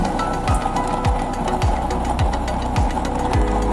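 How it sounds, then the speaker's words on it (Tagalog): A blower fan feeds air to a burner nozzle, giving a loud, steady roaring hum with a regular pulsing knock repeating about every half second, heard alone up close. "Medyo taasan natin ang ating blower kasi sobrang baba ng ating nozzle"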